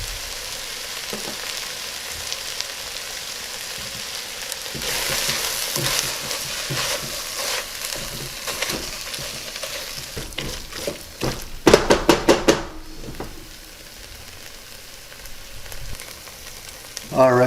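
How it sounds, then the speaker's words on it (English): Cream cheese, finely minced jalapeno and green onion are stirred together in a hot pan. A steady close sizzle runs under repeated spatula scrapes, with a quick burst of sharp taps on the pan near the end. "We're going to go ahead and mix that and incorporate all the ingredients."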